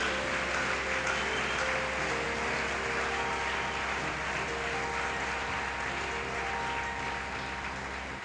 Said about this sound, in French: Une bonne main d'acclamation pour la parole de Dieu.